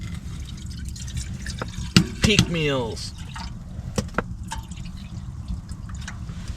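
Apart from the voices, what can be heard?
water being poured into a pot for boiling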